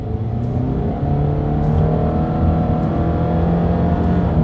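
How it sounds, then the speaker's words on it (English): A 2021 Subaru Impreza sedan's boxer engine revs hard and climbs steadily through acceleration, a loud continuous drone with rising pitch and no talking. "Let's do a quick little acceleration test here in our Impreza"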